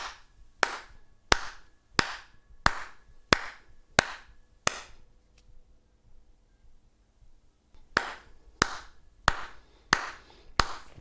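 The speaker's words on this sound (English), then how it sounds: "Now I'm going to clap at a certain point, I'm going to cut out, but I want you to carry on." Steady hand claps in an even beat, loud and close, about every two-thirds of a second; they stop for roughly three seconds of near silence, then the same tempo resumes.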